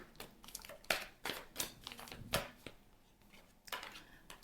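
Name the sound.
cards being turned over and handled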